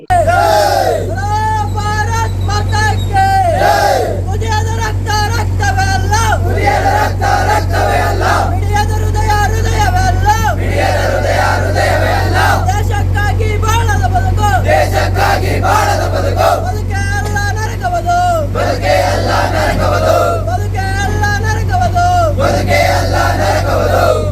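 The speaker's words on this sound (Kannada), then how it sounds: "ಕುಶಾಲನಗರದಲ್ಲಿ ತಾಯಿ ಭಾರತಿಗೆ ಜೈಕಾರ ಹಾಕಿದ್ದಾರೆ" A crowd in Kushalanagar chants victory cheers to Mother India, rhythmic shouted calls repeating loudly throughout over a steady low rumble of vehicles.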